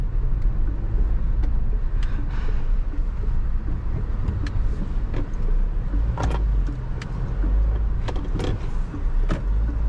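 A Mahindra Scorpio-N SUV is tested on an off-road trail, with a steady low engine rumble and rough road noise throughout, along with occasional knocks and rattles from the body and suspension.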